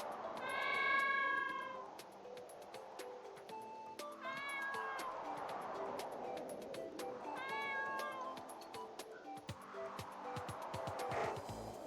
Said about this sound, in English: it's a dog and a cat just chasing each other